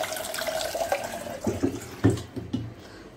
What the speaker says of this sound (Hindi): सो अभी हम चाय बना रहे हैं तो पानी भरते हैं